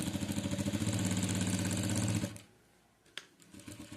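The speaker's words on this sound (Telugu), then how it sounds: "ఇలా స్టిచ్ వేసుకోవాలి." A sewing machine runs loud and steady, stitching a pocketed palazzo pant for about two seconds before stopping abruptly, followed by quiet handling noises and a faint click.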